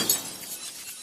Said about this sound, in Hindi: शीशा अपने आप टूट गया।